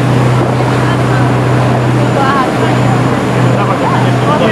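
Boat engine droning steadily on the water off Iceland, a close constant hum with wind and water noise, while people talk over it.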